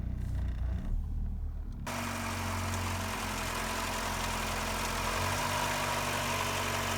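A Ford Escort mk3 with a 1.3 CVH engine idles after an oil change, starting after a short quiet stretch and then holding a steady, close, low rumbling hum to the end.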